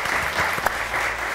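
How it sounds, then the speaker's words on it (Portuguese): A television studio audience breaks into steady applause, a dense, even wash of clapping from many hands heard up close, brief and with no talk over it. "Um beijinho e uma salva de palmas."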